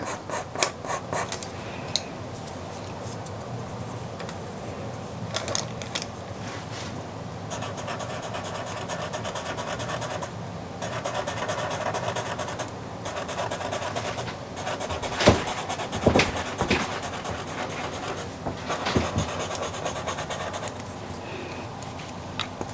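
Soft pastel is rubbed in on paper with a blending stump, giving a quiet, steady scratchy rubbing. Faint strokes repeat at an uneven rhythm, close up, with occasional louder scrapes.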